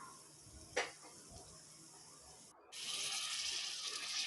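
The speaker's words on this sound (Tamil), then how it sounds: "இதுக்கு அரை டம்ளர் தண்ணி ஊற்றி" After a small clink and quiet pause, half a tumbler of water pours steadily into a pan of frying dried neymeen fish with a soft, continuous rushing hiss.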